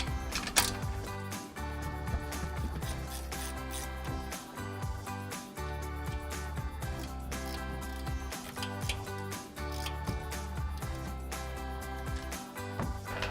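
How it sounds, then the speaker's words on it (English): Rapid clicking of a 15mm ratcheting wrench spinning off strut top mount nuts on a 2021-2024 Ford Bronco, quiet repeated ticking bursts in a continuous rhythm with short pauses between runs. "we're gonna grab our 15mm ratcheting wrench. We're gonna take 2 of our nuts completely off"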